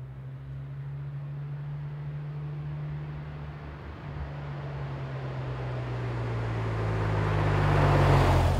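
A Porsche 993 engine hums steadily at low revs, then its roar swells and grows louder toward the end as the car accelerates away.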